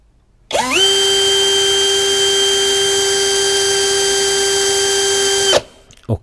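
Mensela ED-LX2 brushless hammer drill spinning freely: a loud, steady, high whine that spins up quickly, holds evenly for about five seconds alone, then cuts off abruptly.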